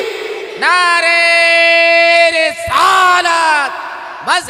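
A crowd at a religious gathering for Eid Milad-un-Nabi shouts back in unison after a Takbir call: two long, loud, sustained chanted cries, then the start of a third.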